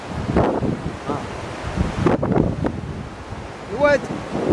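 A flooded river in Morocco rushes by in a constant roar of turbulent water, buffeted by heavy wind noise on the microphone, with a brief voice rising near the end.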